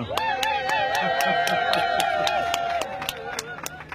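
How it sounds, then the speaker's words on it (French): Steady rhythmic clapping honours Joséphine Vaillant at a product launch, sharp even beats repeating about four times a second, with a sustained voice-like tone running over the crowd throughout. "elle a quand même droit à un applaudissement quand même"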